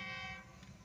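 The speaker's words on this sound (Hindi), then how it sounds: "एम्प्टी ट्रेन सनामा लेवल क्रॉसिंग के साथ पहुंच रही है डबल लोकोमोटिव्स के साथ।" An empty train hauled by two GU40 locomotives approaches a level crossing, a brief sustained horn blast fading over a low rumbling rail noise, heard from some distance.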